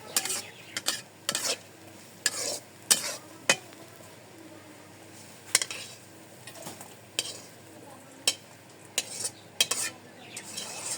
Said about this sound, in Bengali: নাড়াচাড়া দিয়ে দিই। উস্তা ভাজি হয়ে গেছে গা